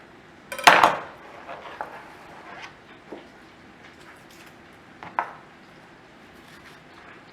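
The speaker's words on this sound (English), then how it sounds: "What we're looking for from the shallots is just a thin slice." A knife slices shallots thinly on a cutting board in a home kitchen, a few sharp isolated chops with a loud first cut and quieter knocks spread out over a soft background.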